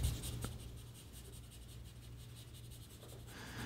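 Pencil sketching on paper for a Kylo Ren drawing, a close, soft continuous scratching and rubbing with a steady low hum beneath, no voices.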